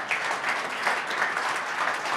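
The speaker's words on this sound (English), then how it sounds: "just one last round of applause" A live event audience gives a steady round of applause, dense even clapping from a crowd throughout, close and moderately loud with no voices over it.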